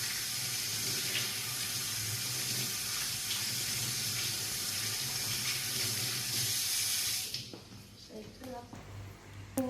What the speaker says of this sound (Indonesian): Itu di air mengalir.